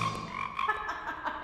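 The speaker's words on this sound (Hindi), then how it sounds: "मेंढक।" A frog croaks in a quick run of rasping, repeated calls, close and fairly soft, with no voices over it.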